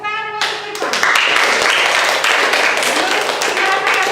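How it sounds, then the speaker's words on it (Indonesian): A classroom bursts into applause for a student, a dense patter of many hands clapping close by just after a short spoken voice. "tepuk tangan untuk Irfan"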